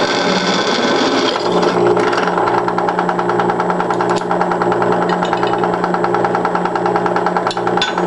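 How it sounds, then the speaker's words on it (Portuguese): Steady electric drill boring through steel angle iron with an 8 mm bit, a continuous loud motor whine with grinding cutting noise running unbroken throughout, no voices. "Nós vamos finalizar a furação com uma broca de 8 milímetros."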